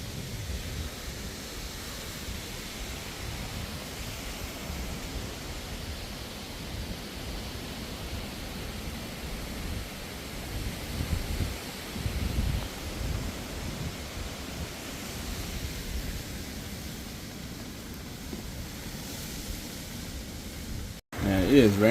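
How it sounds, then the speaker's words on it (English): Wind from Cyclone Jasper roars in a steady, broad rushing wash, swelling slightly in gusts over about twenty seconds, with rain mixed in and a brief bump of handling noise at the very end. "Wind is picking up a bit more."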